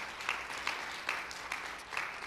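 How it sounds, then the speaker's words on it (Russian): Church congregation applauding steadily, a dense wash of many hands clapping at moderate volume with small swells, no voices standing out. "давайте громкими аплодисментами пригласим нашу аудиторию"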